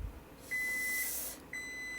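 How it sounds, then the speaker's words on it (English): Kitchen timer sounding while mussels cook on the stove: two short, clear electronic beeps about a second apart, fairly loud over a quiet background. "That's a timer for the 5 minutes."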